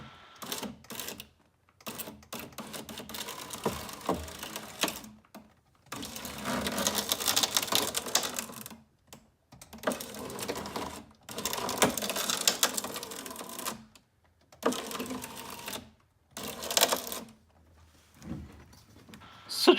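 2004 Saab 9-3 power window regulator motor driving its cable, heard as bursts of rattling, clicking mechanical whirring that start and stop repeatedly, close and moderately loud, with no talk.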